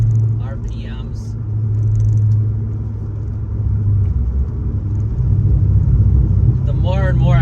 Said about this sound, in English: A little bit of drone at like 1750 RPMs.